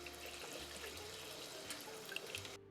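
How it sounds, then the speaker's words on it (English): Warm water runs from a tap over a curly lace wig, a faint steady trickle and splash at close range, ending abruptly. "Now I'm having warm water run on the unit"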